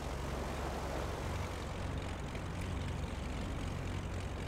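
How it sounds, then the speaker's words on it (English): Twin piston engines of a Beechcraft Baron G5 idling steadily in a flight simulator, a continuous loud propeller drone with a low, even hum and no voices. "that should have both engines up and running very nicely."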